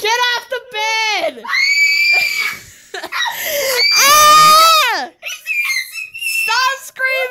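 A child screams repeatedly indoors, in loud, high-pitched drawn-out shrieks mixed with squealing laughter and excited vocal bursts, one long scream peaking in the middle.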